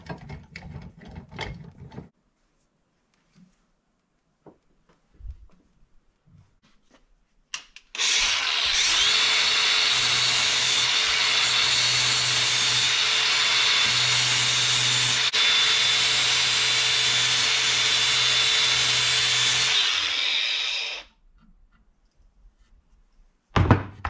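A 4.5-inch angle grinder sharpens a lawn mower blade clamped in a vise, one loud continuous grinding run of about twelve seconds with a steady whine, preceded and followed by brief handling clatter.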